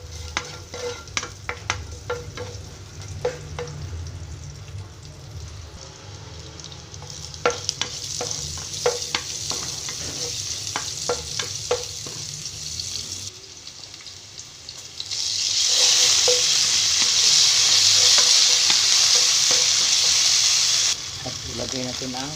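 Onion and garlic sauté in a pan, stirred with scraping clicks over a steady sizzle, before a louder gush of hiss takes over as water goes in; a voice speaks now and then.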